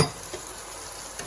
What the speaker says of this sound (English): Now that that's been sauteing for a few minutes, we're gonna add the sauce directly to the pan.